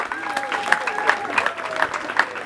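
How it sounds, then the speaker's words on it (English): At a secondary school graduation, the crowd claps and cheers, uneven clapping mixed with voices and occasional whistle-like calls, fairly close. "Please cheer them up now."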